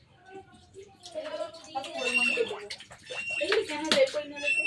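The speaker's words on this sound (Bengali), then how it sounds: "জল দিয়ে দিলাম।" Water pours into a cooking pot set on a lit gas stove, a close, rising splashing stream that swells over a few seconds.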